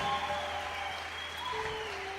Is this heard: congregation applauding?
yes